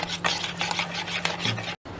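A spoon stirs yogurt mixed with lemon juice, salt, black pepper and chicken broth, making soft wet scraping swirls in a bowl, close and fairly quiet, with a short cut near the end.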